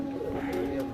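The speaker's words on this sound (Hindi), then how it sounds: "तो ये ग्रीन नेक कबूतर हैं" Green neck pigeons coo softly, a brief low tonal coo with a faint steady background hum.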